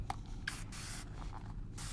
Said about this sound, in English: If you have a handy dandy spray bottle,